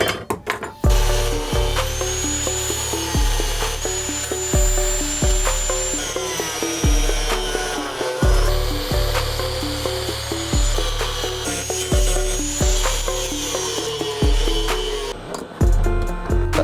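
A power tool cuts out the rough shape of a San Mai knife blade from steel, a loud continuous grinding whine with rhythmic dips as the cut is worked, close up and steady throughout.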